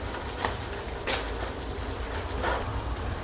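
Cashews, almonds and raisins fry in hot ghee for carrot halwa, giving off a steady soft sizzle with faint crackles and pops. No one speaks over it.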